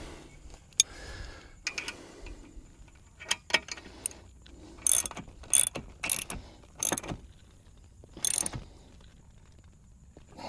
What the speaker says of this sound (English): the 3/8 drive and the 1/4 inch drive both have similar sizes on them, so you can do some tightening up with them